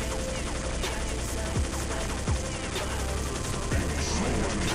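Rapid bursts of M4A1 rifle fire in Counter-Strike 1.6, on a deathmatch server with custom weapons, come in short sharp volleys over a steady background hum, moderately loud and without speech.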